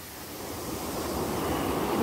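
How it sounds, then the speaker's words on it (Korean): Ocean waves surge up a beach and wash over shoes and clothes, a broad rushing roar building steadily in loudness, with no voices. "파도가 저 신발하고 옷을 다 삼켜버리네요."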